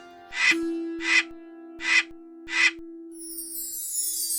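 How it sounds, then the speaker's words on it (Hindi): A crow caws four times in an even, spaced sequence, loud and close, followed by a brief higher-pitched sound at the end; no talking. "आज सुबह से कौवा बोल रहा है"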